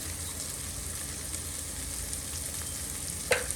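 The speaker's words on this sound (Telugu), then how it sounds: "ఎగ్స్ని మంచిగా ఫ్రై చేసుకుందాం ఫస్ట్." Eggs frying in oil with turmeric and chili powder, a steady crackling sizzle throughout, with a brief clink near the end.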